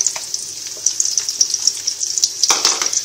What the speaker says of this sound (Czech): takže si na něj dáme šalotku, kterou mírně zpěníme